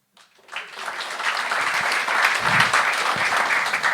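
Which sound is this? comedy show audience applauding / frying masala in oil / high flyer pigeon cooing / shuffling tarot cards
comedy show audience applauding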